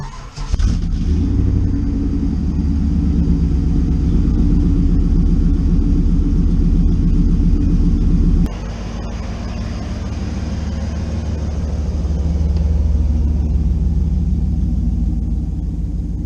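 A Z28 Camaro's engine rumbles loud and close as the car pulls out of a carport, a steady idle and low-speed drive with a slight drop in tone partway through, no talking.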